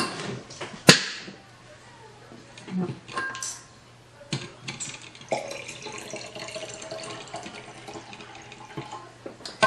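Drinking water is poured in short intermittent bursts with splashes, drips and a few sharp clinks and handling knocks, fairly close in a quiet room with faint voice nearby.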